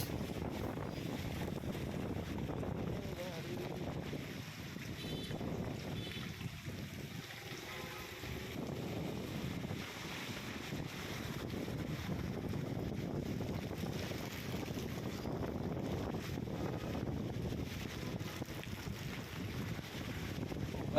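Heavy overnight rain falling in Jetpur, a steady broadband wash of downpour with a windy, rumbling character that runs unbroken and fairly loud for the whole stretch, with no voices over it.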